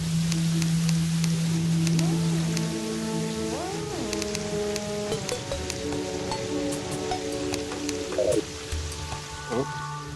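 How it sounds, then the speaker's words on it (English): Steady rain patters across the whole stretch in a Terraria world, a dense hiss of falling drops sitting under gliding tonal game music that rises and falls. "I think the rain is slowing us a little bit."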